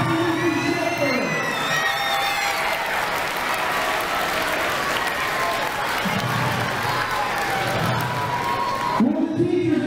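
Audience at a school awards ceremony applauding steadily throughout, with a dense wash of clapping and some cheering, while a host speaks over it at the start and end.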